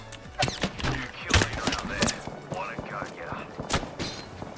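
Gunfire in Apex Legends, with several sharp shots and bursts spread through a busy firefight alongside footsteps and game effects, and players talking over it.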